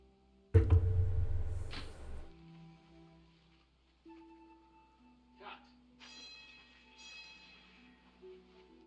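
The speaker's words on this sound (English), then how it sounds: "There's the bell for vespers." A church bell rings for vespers in the game Immortality, one loud booming strike that decays slowly, followed by quieter tones and faint background sounds.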